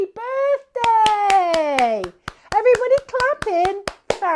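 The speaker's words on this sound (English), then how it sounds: "Everybody clapping." Children and adults clap along at a birthday singalong rhyme session, a steady run of sharp claps beneath a sung tune.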